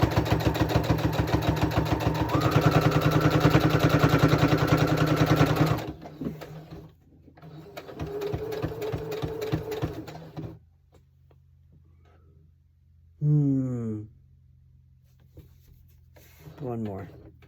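A sewing machine stitches fabric coasters: a loud, fast, steady mechanical whir that runs, pauses, then runs again more softly, followed by quieter handling sounds and brief pitch-sliding squeaks close by.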